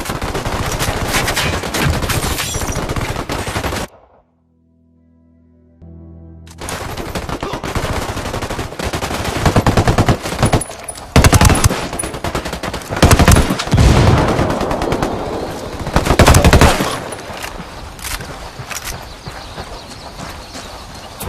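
Gunfire in Ghost Recon Wildlands during a rebel and cartel firefight, loud rapid bursts and single shots crowding a busy game mix with horse hoof clatter, broken by a brief silent gap.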